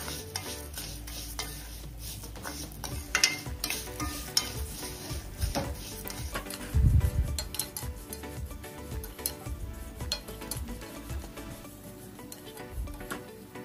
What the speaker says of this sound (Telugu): సేమియాని మనం కొద్దిగా మనం రోస్ట్ చేసుకుంటే జస్ట్ గీ ఫ్లేవర్ కోసం సరిపోతుంది.